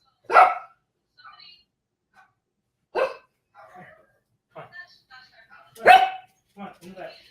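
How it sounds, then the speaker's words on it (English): A small pug-beagle mix dog lets out three sharp, loud barks spaced a few seconds apart, with quieter yips and murmuring voices between them. "She's mostly pug, with a little bit of beagle, and she barks at everything."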